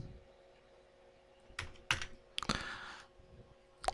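A computer keyboard is tapped in short, quiet bursts of typing as a name, email and password are entered, with pauses between clusters of keystrokes.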